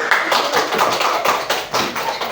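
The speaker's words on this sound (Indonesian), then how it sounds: "Tepuk tangan buat Rifki" A classroom group claps for a student named Rifki, a dense, steady patter of many hands that holds evenly from start to finish with no voices.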